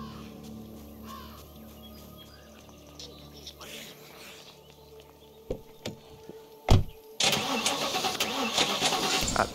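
Car engine starting in The Last Stand: Aftermath video game: a few quiet clunks, then the engine catches with a loud, sudden roar and settles into a steady running rumble over faint ambient sound.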